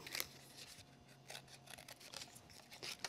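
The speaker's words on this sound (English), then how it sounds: "I'm going to bring in my scissors and trim around the bottom of it." Scissors trim paper around a craft panel in close, quiet, crisp snips that come in short irregular bursts.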